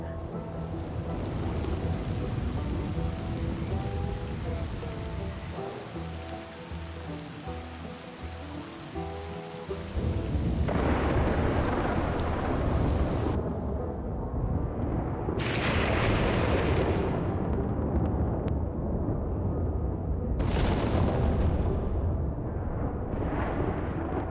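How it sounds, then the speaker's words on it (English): Modded thunderstorm in Red Dead Redemption 2: steady heavy rain hiss throughout, with several loud rolling thunder cracks booming in the second half, no voices. "And then even the thunderstorms, oh man, you gotta see this."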